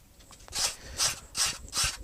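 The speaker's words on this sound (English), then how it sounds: "sandpaper." Sandpaper rubbing across a wooden guitar board held over a workshop corner, in four rhythmic rasping strokes that are close and fairly quiet, with no talk.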